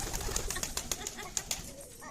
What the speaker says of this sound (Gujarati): કબૂતરાને ખવડાવો